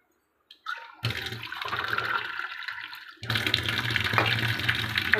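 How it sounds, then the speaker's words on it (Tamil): Water poured into a pan for a spicy fish curry, with a sudden onset of loud rushing, splashing flow that briefly dips before surging back strongly and steadily until the end. "இதுக்கு தேவையான தண்ணி கொடுத்துருவோம்."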